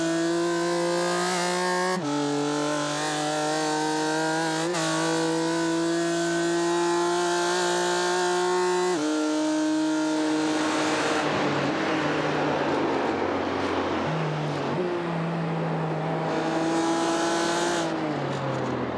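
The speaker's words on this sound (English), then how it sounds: "Golombek is just showing himself in the back mirrors of Niels Carstensen and his BMW M4 GT4." A BMW M4 GT4 race car's engine howls loudly on track, its pitch climbing through the gears with sharp drops at each shift, then a rougher roar as it brakes and accelerates again.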